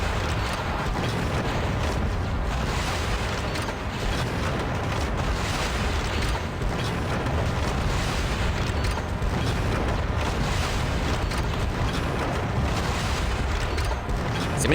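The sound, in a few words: rocket explosions in the video game Turok Evolution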